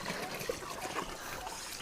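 Tap water pours steadily into a tub, a continuous trickling, splashing flow heard close up with no talk over it.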